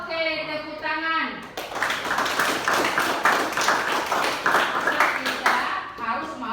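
A group of people clapping hands together, a burst of steady applause starting after a voice and continuing loudly for several seconds before fading.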